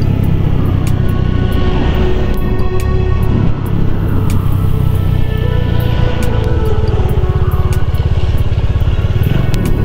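Motorcycle rolling slowly downhill on a mountain road under engine braking, a loud, steady close-up engine drone with a constant low rumble throughout and no talk.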